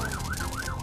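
A fire engine siren sound effect wails in a rapid, rising and falling cycle, clear and fairly close, heard alone in a children's museum play area.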